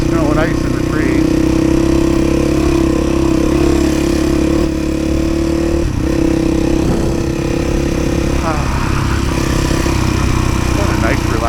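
Close, loud dirt bike engine drones steadily while riding an off-road trail at Divide, Colorado, with small shifts in pitch as the throttle changes and a brief dip near the middle.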